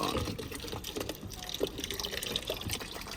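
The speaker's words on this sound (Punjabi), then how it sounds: "ਪਾਣੀ ਵੀ ਪਾ ਦਈਏ ਯਾਰ ਕਬੂਤਰਾਂ ਨੂੰ" Water pours and trickles steadily into a pigeons' water dish, a soft continuous splashing with a few drips, fairly quiet and close by.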